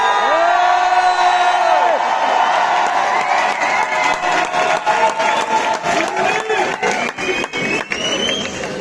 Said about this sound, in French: si vous continuez à hurler comme ça